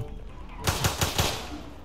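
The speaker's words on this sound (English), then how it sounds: "I hear gunshots" A rapid burst of about five gunshots in a Roblox hood game rings out suddenly after a quiet moment, loud and sharp, with no voices over it.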